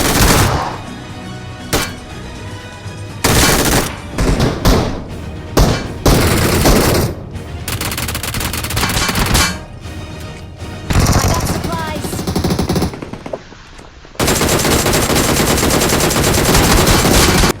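Rapid bursts of S12K shotgun fire in a video game, loud repeated blasts in clusters with brief pauses, mixed with other gunfire and game effects, and a voice talking over parts of it.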